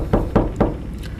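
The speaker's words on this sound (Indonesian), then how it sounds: "Suara ketukan itu kedengar lagi." Three firm knocks, evenly spaced and fairly close, like knuckles rapping on a door, followed by quiet room tone.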